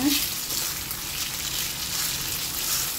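Marinated pork fries with garlic in a pan, a steady close sizzle and crackle that carries on without a break.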